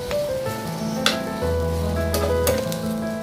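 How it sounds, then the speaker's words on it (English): Bread slices pan frying for an English bread pudding, a steady bubbling sizzle in hot fat with a few sharp crackles and pops, close and continuous, under a low hum and without talk. "When hot, pan fry the last 4 slices also."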